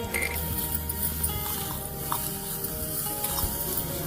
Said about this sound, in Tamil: அடுத்து நம்ம அதே பேனில் 1 கப் துருவின கேரட் சேர்த்து ஒரு 3 நிமிஷம் வேக வச்சுக்கலாம்